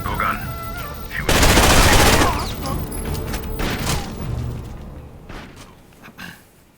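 Loud burst of video-game gunfire in Rainbow Six: Vegas, a dense rattling fusillade of a couple of seconds, then scattered shots and thuds trailing off, with faint speech underneath.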